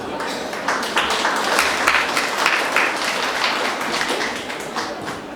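Wedding guests applaud as a church pastor is invited up to officiate the ceremony, a dense, even patter of many hands clapping throughout at moderate volume.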